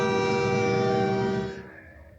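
A train horn blares in a steady, harmonic-rich tone for over a second, then cuts off and fades into a quiet tail.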